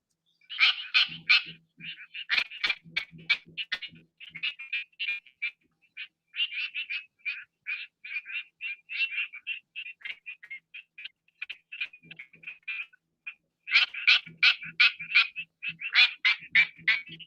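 Quacking frog, Crinia georgiana, calling in rapid duck-like bursts of sharp pulsed clicks, clustered in repeated trains with short gaps, clear and close, no talk.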